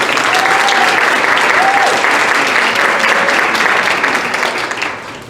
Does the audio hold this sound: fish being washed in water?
no